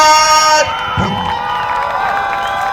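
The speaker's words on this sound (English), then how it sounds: "Give me a shout out and a scream for Dr. Principal Pearl-Cohn High School." Crowd of high school football fans cheering and screaming at a championship celebration, a loud sustained roar with shrill whoops rising and falling.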